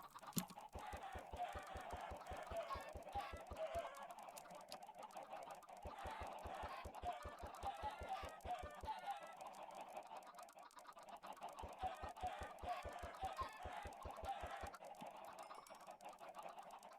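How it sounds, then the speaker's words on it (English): Many chickens cluck in the video game Minecraft, their short, rhythmic clucks repeating in quiet bursts with brief pauses between runs, no talk over them. "I'm sorry you have to hear all this, chickens, but chickens."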